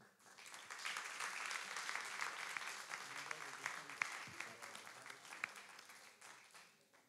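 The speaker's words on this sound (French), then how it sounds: "on peut applaudir le finaliste et tout le monde." Audience applause at the final of a 2023 eloquence contest, a dense, steady wash of many hands clapping throughout, fairly distant and even in level.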